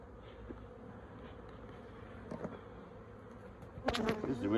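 Honey bees buzz steadily around an open, strong beehive full of honey, a continuous close insect drone that swells louder near the end.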